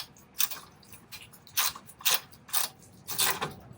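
A ratchet on a 14 mm bolt clicks in short, uneven bursts, about eight sharp ratcheting strokes up close, while tightening a rear shock on a 2007 Honda Fit.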